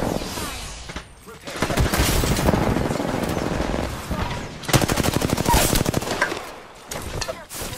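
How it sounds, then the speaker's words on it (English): Missile strikes explode in a video game match as a dense run of loud, crackling blasts and rapid gunfire-like bursts, with a short lull near one second and another near four seconds before the barrage resumes. "That's their missile and my missile strike."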